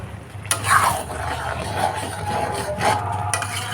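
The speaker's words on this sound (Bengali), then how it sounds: "সমস্ত উপকরণ এবার এর সাথে ভালোভাবে মিশিয়ে নেব" A spoon scrapes and rubs through dalia cooking with vegetables and raisins in a pan, giving repeated close stirring strokes with soft scraping and faint sizzling, no voices.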